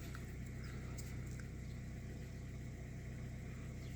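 A Hyundai Solaris engine running on green 5W30 oil, with a steady, faint mechanical hum and a knock, held evenly throughout with no talking.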